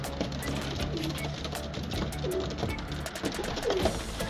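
Racing pigeons coo softly on a roof while drinking, low bursts of cooing set against a steady outdoor background hum.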